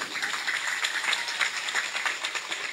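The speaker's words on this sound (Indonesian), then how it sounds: "Tepuk tangan untuk guru ngaji." Dense, steady applause from an audience at an Islamic religious sermon in Banyuwangi, cheering Quran teachers; the clapping is continuous and fairly loud throughout with no pauses.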